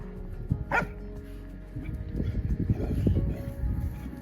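A dog yips and barks during play time on a homestead, one sharp bark near the start followed by a busier stretch of scuffling, thumps and smaller vocal sounds.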